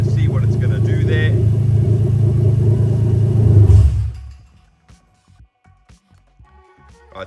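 A Toyota 1JZ-GTE VVT-i engine idles loudly during an oil control valve test, then stumbles and shuts down about four seconds in, leaving quiet with a few faint clicks and knocks afterward.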